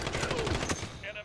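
Rapid gunfire in a Call of Duty: Modern Warfare Hardpoint match: a short, dense burst of sharp shots, loud and close, under game noise and possible player chatter.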